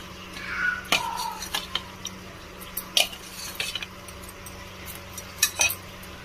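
Utensil clinks and scraping as soya chaap is stirred with oil in a bowl, then covered, with sharp intermittent taps of spoon against dish over a quiet kitchen background, no talking.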